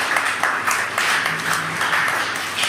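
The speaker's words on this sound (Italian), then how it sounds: "Facciamo un applauso ai nostri amici di Roma" A congregation at the close of a Catholic Mass and Eucharistic adoration applauds friends from Rome, producing a steady, dense wash of many hands clapping that holds at an even level throughout.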